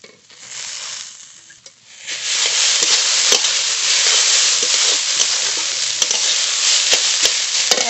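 Radish greens go into a pan with half-fried radish and burst into a loud, close sizzle that settles into steady frying. Sharp scrapes and clicks of stirring cut through at intervals, and no one speaks.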